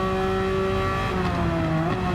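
A BMW Z8 race car in Gran Turismo 7 holds a steady, loud engine drone throughout, with a slight pitch shift partway through and no talking.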